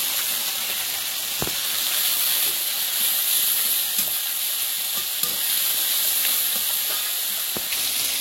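Whole cumin, onion and ginger-garlic paste fry in hot oil for greens with shrimp, giving off a loud, steady sizzle and hiss with occasional soft stirring taps, no voices.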